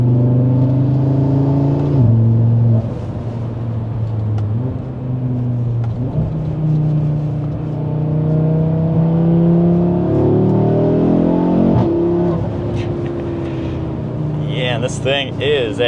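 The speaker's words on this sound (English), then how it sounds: "So now let's turn onto a fun road and we'll rip the car a little bit." An Audi RS3 accelerates hard along a winding road, its engine note rising and falling through gear changes and throttle lifts, loud and close from inside the car with steady road rumble underneath.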